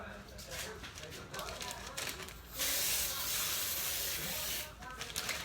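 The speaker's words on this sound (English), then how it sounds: "I always spray my pan anyway." Cooking spray hisses onto a baking pan for a cake roll in a home kitchen. There are short bursts first, then one long steady spray, close and clear, and a voice talks around it.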